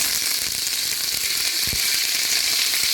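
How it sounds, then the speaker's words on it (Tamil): Sliced onion goes into hot oil where spices are already frying, giving a loud, continuous sizzle with a few sharp crackles and stirring clicks, close up and with no talk. "பட்டை வகை நல்லா பொரிஞ்சிடுச்சு வெங்காயம் சேர்த்துப்போம்"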